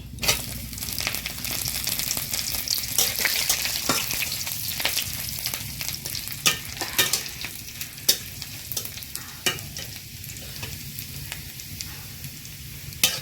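Chopped garlic sizzles in oil in a pan with a steady hiss, broken by scraping and clinking as a spoon stirs. Nobody speaks over it.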